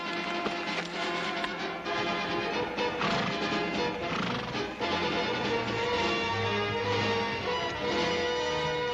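A horse neighs and its hooves clop over a dense, loud, continuous musical score in a Western drama scene.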